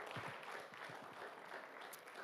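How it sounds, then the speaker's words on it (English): Faint round of audience applause at an education event in Uganda, a dense patter of many hands clapping steadily throughout, heard quietly from a distance. "Let's give another round of applause for Dan Ayebare."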